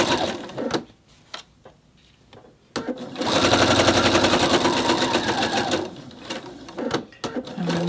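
A sewing machine stitches a blouse seam at a 1 cm allowance in a fast, steady whirring run of about three seconds, close by, with handling clicks and brief starts before and after.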